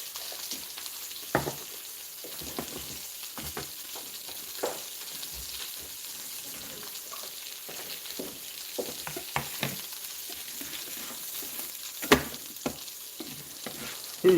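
Wagyu tri tip sizzles and fries steadily in a pan at breakfast, a soft constant hiss broken by irregular crackles and pops, with no talking.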